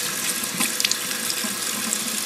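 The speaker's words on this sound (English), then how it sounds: "make sure that at the very end when you're finished washing your brush, after you've gotten all the inside out, that you kind of wash it like this" A makeup brush rinsed under a running tap at a sink, water streaming steadily and splashing close by with small spatters, no voices over it.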